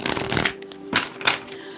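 A deck of numerology cards being shuffled in a few quick riffling bursts, close and crisp, with brief pauses between them and no talking.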